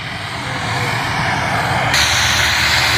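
A small skydiving propeller plane's engine starts at Wanaka, New Zealand, and spins up into a loud, steady roar, jumping noticeably louder partway through.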